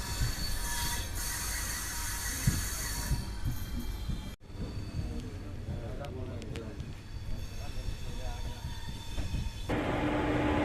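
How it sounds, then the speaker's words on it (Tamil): The Mayiladuthurai–Salem train passes on a railway line in India: a continuous rumble of rolling wheels with high metallic squeals, a brief break partway through, then the clatter of railcars going by close. "மயிலாடுதுறை சேலம் ட்ரெயின் தாங்க கிராஸ் பண்ணி போயிட்டுருக்கு"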